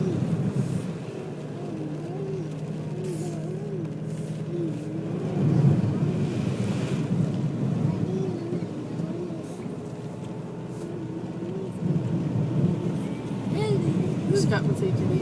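A car drives through Sunbury floodwater, its steady low rumble and wash running throughout beneath nearly continuous talk from people in the vehicle.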